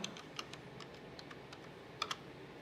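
A new password is typed on a computer keyboard: a quick run of soft, light key clicks at uneven spacing, with a couple of sharper taps near the end and no voices.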